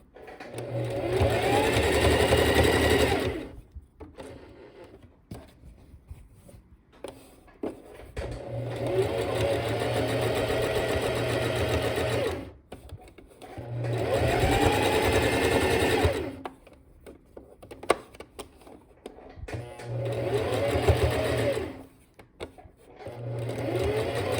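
A sewing machine stitches a seam on a cotton dish towel, running in three long, steady, close bursts of rapid whirring with short quiet pauses between them.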